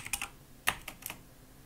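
Brief, sparse keystrokes on a computer keyboard during a German League of Legends session, a few separate clicks spread across under two seconds, close and quiet.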